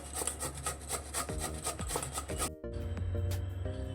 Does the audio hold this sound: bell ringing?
no